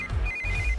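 A phone rings in a Hindi film scene, a steady electronic ringtone tone over low background hum, loud and close for under a second.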